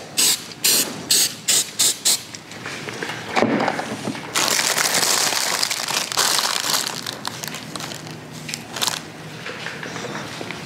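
A can of spray glue hisses onto the base of a dollhouse in a handful of short, close bursts, then a long, continuous spray that gradually fades toward the end.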